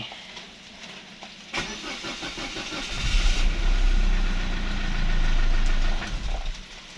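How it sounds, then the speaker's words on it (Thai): A Mazda 2 Skyactiv engine cranks briefly and catches, runs rough and loud for a few seconds, then cuts out and stalls, leaving near silence; no one speaks. "เดี๋ยวเรา ลอง ลอง สตาร์ทอีก รอบหนึ่ง ดูซิว่า ได้ไหม"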